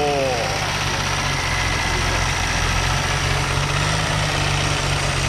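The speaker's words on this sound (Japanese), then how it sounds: "奇跡ですね、この状態でエンジンかかるのは。" A car with a badly crushed front end after an accident cranks and catches, then settles into a steady, loud low idle with a constant rumble, while people talk nearby.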